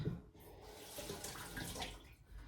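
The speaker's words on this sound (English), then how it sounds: "Let's rinse it off." A kitchen scooper is rinsed under a running tap, a close, continuous splash of water that shifts as the utensil moves through the stream.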